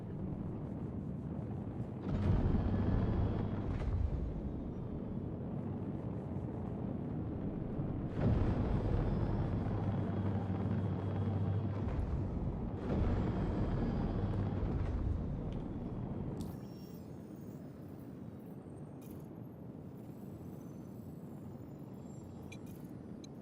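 An aircraft engine in a video game drones steadily just after takeoff, a loud broad roar that swells and eases in waves before dropping to a quieter hum with thin high tones near the end. No one speaks.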